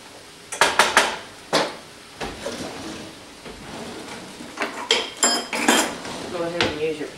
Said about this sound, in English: Go ahead and use your potato masher.